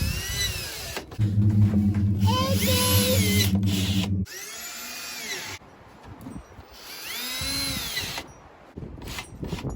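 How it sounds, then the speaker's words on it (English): Cordless power drill driving screws into a wooden kids' playhouse panel, with loud whining motor bursts rising and falling in pitch over several seconds, broken by short pauses, close up and without talk. "Just try to get your first screw in there."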